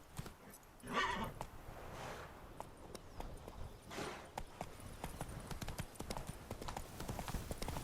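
Roach the horse gallops in a video game, a fast steady clip-clop of hooves close by with a loud neigh near the start, carrying on without talk.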